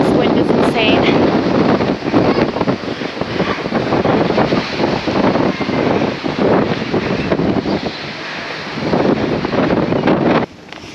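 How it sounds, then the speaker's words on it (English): Strong gusting wind buffets the microphone outdoors in Copenhagen, a loud continuous roar with surging gusts throughout, briefly dropping near the end. "This wind is insane."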